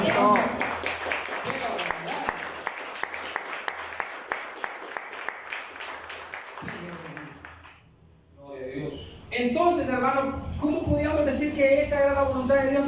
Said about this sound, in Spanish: Hombre, eso merece un aplauso.